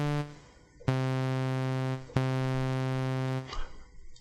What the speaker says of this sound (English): so I'm going to put sawtooth in here